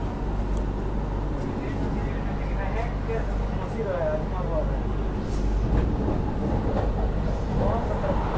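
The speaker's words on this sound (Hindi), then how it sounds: "अभी देखो सामने से आ रही है 20504 डिब्रूगढ़ राजधानी एक्सप्रेस वाया मुरादाबाद" A Dibrugarh Rajdhani Express rumbles past on a bridge, heard from a passing train as a continuous rolling roar with rattling clatter throughout, a voice talking faintly beneath.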